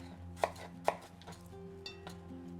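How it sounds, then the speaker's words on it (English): A knife chops apples into bite-sized pieces on a cutting board, with a few distinct close thuds spaced irregularly against a quiet background. "And I just chop them up to like bite-sized pieces."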